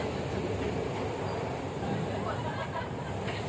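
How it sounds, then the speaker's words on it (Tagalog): A train on the way to Prague in the Czech Republic gives off a steady, close rumble with broad rolling noise that holds evenly for the whole few seconds. "Train."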